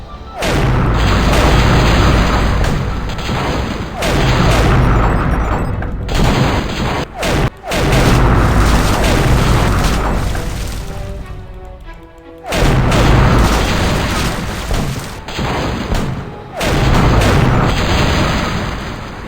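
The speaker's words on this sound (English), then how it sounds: "The cannons are so loud!" Heavy cannon fire in the video game The Curse of Monkey Island booms over and over in dense, loud volleys during a sea battle, with brief lulls between barrages.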